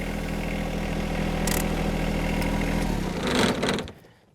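A John Deere 1025R tractor engine runs at a steady, close idle-like hum as it drives off its mower deck, then briefly revs louder before cutting away.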